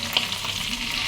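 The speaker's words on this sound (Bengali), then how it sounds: "পেটে রাখা মশলাটা তেলের ভিতর দিয়ে দেবো, এটা একবারে ভুনে নেব" Spice paste frying in oil in a pan, the masala being cooked down for a potato and puti fish curry, gives a steady, close, unbroken sizzle and crackle with no voices.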